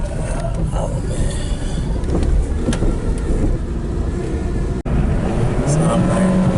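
A 2012 Nissan Versa with engine coolant temperature sensor faults revving hard near 6,000 RPM at low road speed, a loud sustained engine drone with road noise and a brief cut near the end, heard from inside the car.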